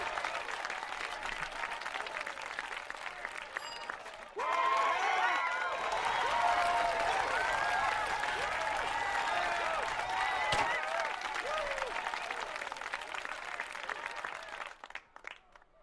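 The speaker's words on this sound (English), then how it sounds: "3 cheers for the Harvest Champions!" A crowd in the Neverwinter Nights 2 video game cheers and applauds the Harvest Champions at a harvest fair, a dense, sustained roar of clapping and shouting that swells midway and fades at the end.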